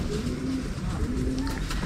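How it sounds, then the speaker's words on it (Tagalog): Racing pigeons, one of them grizzle colored, coo softly in a low murmur over a steady background hum for just under two seconds. "Umiyak pa mga kalapatids."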